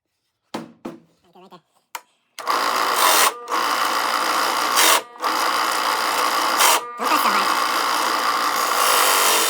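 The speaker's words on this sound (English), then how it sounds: "We set our depth gauge. We're just barely making a hole." A drill bores a shallow hole into a board of reclaimed wood with a depth gauge set, running loud and steady for several seconds with brief pauses, after a few short knocks and handling sounds.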